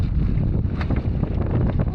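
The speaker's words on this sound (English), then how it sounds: "Ooh, this is windy." Strong wind roars and buffets the microphone on a backcountry canoe trip, a steady loud rushing noise with gusty pulses, lasting briefly without talk.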